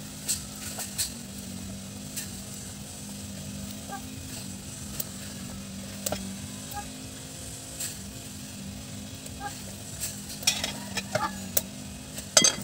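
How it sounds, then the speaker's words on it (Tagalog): Onion, Malabar spinach and other vegetables go into a simmering soup pot, with a steady low bubbling and a sizzling wash, faint stirring and a few scrapes near the end. "lagay na po natin ang ating mga gulay guys ating sibuyas dahon din yung ating alugbati"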